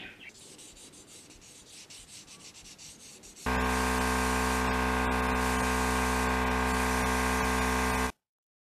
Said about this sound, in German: Deshalb würde ich da beim Klarlack noch mal kurz drüber schleifen.